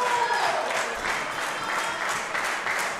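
Spectators at the Love Bug Robert Butz memorial wrestling show in Allentown, Pennsylvania clap and cheer steadily, a dense continuous applause filling the hall for a few seconds.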